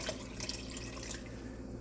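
Water trickles into a pot of pinto beans on the stove, a faint, steady pouring hiss close by with light drips, no talking.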